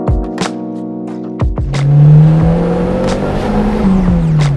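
A car engine revs up and accelerates hard after a few sharp knocks, its rising drone loud and close before it levels off into a steady whir.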